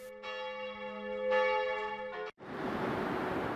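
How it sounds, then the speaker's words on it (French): Church bells of Altötting ring with long, sustained tones that swell and overlap, then cut abruptly to a steady rush of broadband noise. "du village d'origine de Benoît XVI, les cloches de l'église d'Altötting ont sonné à l'annonce de sa mort"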